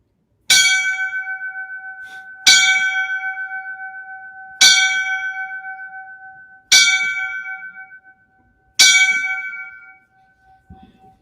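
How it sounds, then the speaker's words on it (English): Five evenly spaced strikes of a clear ringing bell, rung as a firefighter's line-of-duty death tribute, each one loud and near and left to ring out before the next. "I would like to give him the 5 bells for his line of duty service"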